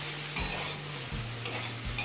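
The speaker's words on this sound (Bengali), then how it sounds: "এবার মিডিয়াম ফ্লেমে খারকুল পাতার ডাঁটা সিদ্ধ হয়ে আসা পর্যন্ত ভেজে নেব।" Kharkol stems fry with prawn heads, salt and turmeric in a pan over a medium flame. A steady, soft sizzle runs throughout, with a low hum beneath it and a few brief stirring scrapes.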